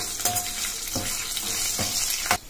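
Soft scraping and stirring of a salted tempering in a pan for coconut rice, with a faint sizzle, a few brief clinks of a spoon against the metal, no voices.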